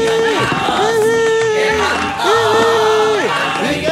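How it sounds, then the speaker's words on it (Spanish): A crowd cheers, shouts and applauds for Luis at an in-person birthday serenade, with loud, sustained voices rising and falling in a steady swell for about four seconds. "¡Venga los aplausos, señores, para Luis!"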